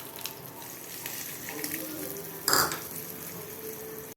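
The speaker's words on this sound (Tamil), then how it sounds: "கடுகு இதெல்லாம் பொரிஞ்சோன்னே கறிவேப்பிலை போட்டு எடுத்துடலாம்." Mustard seeds and curry leaves temper in hot oil for a coriander chutney. A low, steady sizzle runs throughout, with one brief louder crackling burst partway through.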